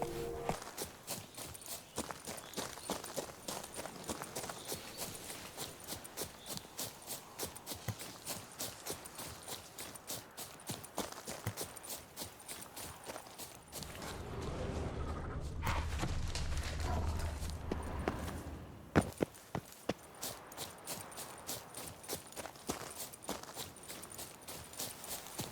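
In The Witcher 3, the horse Roach walks with a steady, even clip-clop of hooves and a brief rushing surge partway through, under game ambience.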